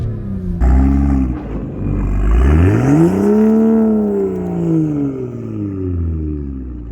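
A car engine revs up and holds higher RPM while trying to pull free on a snowy road with comfort mode and DSC on, the rising and falling engine tone loud and close with no talking.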